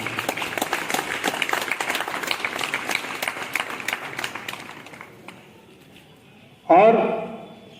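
An audience at a college Republic Day celebration breaks into steady applause to welcome a student, the clapping fading out before a voice starts speaking loudly near the end.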